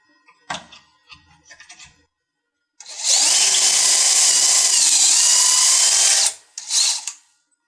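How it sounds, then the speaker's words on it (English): A few knocks, then a power drill bores loudly into wood in one long sustained run, followed by a short second burst. "I'm going to keep sliding the workpiece down and drilling holes."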